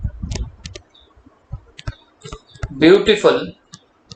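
Keystrokes on a computer keyboard during an accounting lecture, as scattered, sharp, close clicks at an irregular pace, briefly interrupted by a spoken word.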